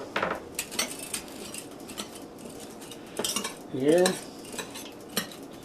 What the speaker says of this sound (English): I'm going to take this rice that I already got cooked, dump it in my pot I'm using, and then I'm going to break up this rice